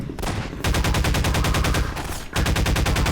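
Half-Life 2 machine gun fires in rapid sustained bursts, a brief pause breaking a long stream of loud, close shots, with no talking.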